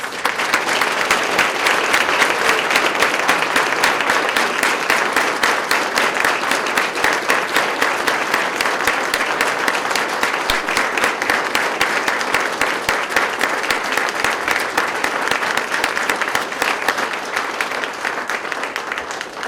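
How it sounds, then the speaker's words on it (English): Sustained applause from a large audience at a police swearing-in ceremony, dense and steady clapping that carries on without a break for the whole stretch, with no talking over it. "Please turn around and give them a round of applause."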